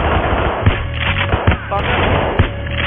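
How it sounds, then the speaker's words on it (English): Gunfire rings out in PAYDAY 3 as enemies shoot at the player, scattered sharp shots and thumps cracking through a dense, steady wash of game noise. "Who the fuck is shooting me?"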